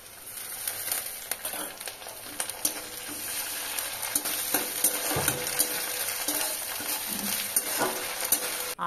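Ginger fries with browned onions in a pan, a bright steady sizzle punctuated by frequent stirring scrapes and taps of a spoon, close and fairly loud.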